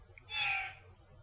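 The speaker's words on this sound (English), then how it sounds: "all of a sudden a giant bird pops into your face" A giant bird from the Zelda Skyward Sword video game lets out a single harsh, screeching cry lasting about half a second, rising out of a quiet background and fading quickly.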